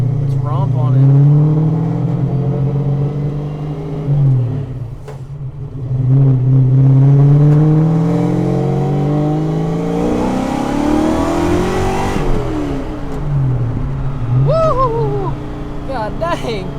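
A Fox Body Ford Mustang, still finishing its engine break-in, accelerates hard through the gears with a loud, close engine note that climbs, drops at each shift and climbs again, while people talk over it inside the car.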